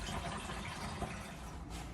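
Water runs steadily into a tank through pipework in a vintage coffee van, a continuous close rushing fill with no break.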